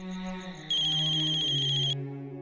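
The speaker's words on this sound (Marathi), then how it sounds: "कृष्ण, एवढा रातचा का फोन केला असेल?" An electronic phone ring sounds once for about a second, bright and steady, over a soft sustained musical background.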